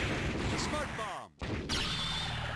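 Iron Man's smart bomb explosions in a fighting video game, a dense barrage of booming blasts that fills the whole clip, with a brief gap partway through, loud and close under game announcer voices.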